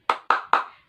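Three sharp, evenly spaced claps from a group of children in a classroom, loud and close, with no talking in between.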